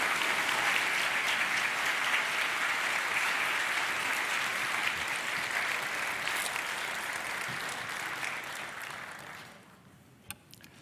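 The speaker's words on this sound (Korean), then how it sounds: "우리 큰 박수로 환영하며 말씀을 듣겠습니다" Church congregation at a dawn prayer service gives sustained, dense applause to welcome the pastor, steady and full for about nine seconds before tapering off into near silence.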